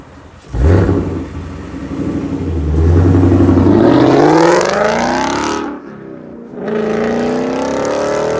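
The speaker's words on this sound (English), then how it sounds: "Quick little acceleration and see if you guys can capture exhaust from the outside." A 2018 Ford Mustang GT with a Corsa active exhaust accelerates hard outdoors. A loud exhaust roar climbs steadily in pitch, breaks off briefly as the gear changes, then surges again. No one speaks.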